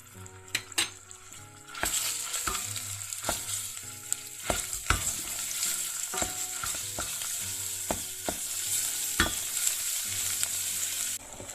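Stuffed pepper filling with tomato paste sizzles in a frying pan, with a continuous close fry punctuated by repeated scrapes and knocks of a utensil stirring against the pan.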